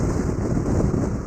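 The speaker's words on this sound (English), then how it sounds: "it is blowing a gale" Strong gale-force wind buffets the microphone on a motorcycle ride, a loud, continuous roaring rumble with no other sounds.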